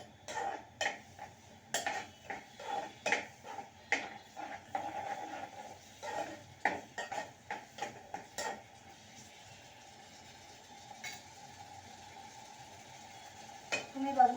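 Masala for chole with oil and water cooks in a pan, a spoon scraping and clinking against the metal in repeated strokes over a soft sizzle, then the sizzle continues alone, fairly close.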